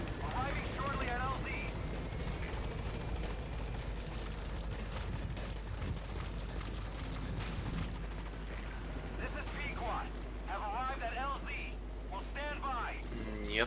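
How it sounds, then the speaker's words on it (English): A support helicopter arrives in the video game Metal Gear Solid V: The Phantom Pain, its low rotor drone steady throughout beneath game radio chatter and a streamer talking. "Support helicopter has arrived."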